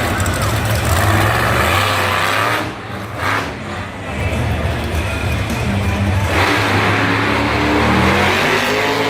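A monster truck engine roars and revs hard at a Monster Jam show in Salinas as the truck spins a donut. The loud, continuous engine sound dips briefly and then surges again, with crowd and arena noise around it.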